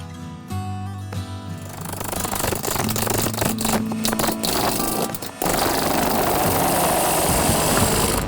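Wood lathe turning a Tasmanian devil bowl, with a steady motor whine joined by rattling, scraping bursts as the tool cuts, shifting into a louder, continuous grinding roar partway through.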